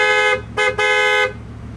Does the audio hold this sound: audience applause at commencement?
no